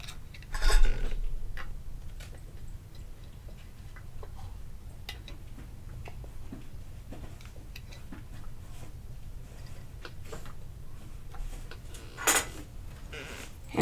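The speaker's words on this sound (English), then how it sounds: "Okay, so now we'll put the lids on." Metal lids set onto glass canning jars filled with grapes, a scattered series of light clinks and ticks over a quiet kitchen background, with one louder clatter near the start and another toward the end.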